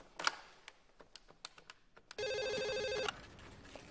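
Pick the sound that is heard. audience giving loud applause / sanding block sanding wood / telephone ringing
telephone ringing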